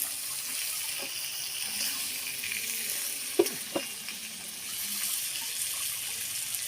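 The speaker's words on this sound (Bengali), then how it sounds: "আর এখানে একটা টমেটো নিয়েছি, এটাও আমি ভেজে নেব" A tomato fries in a pan, giving a soft, steady sizzle with a couple of sharp utensil knocks partway through, no voices.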